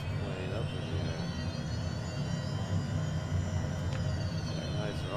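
A Honda Jet's engines whine steadily while the plane taxis at night, a constant close hum with broad rushing noise and high tonal whine held throughout, with no clear speech.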